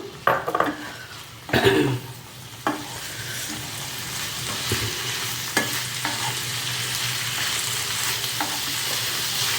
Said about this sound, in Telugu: దీంట్లో ఈ ఎగ్స్ కలిపేస్తున్నాను.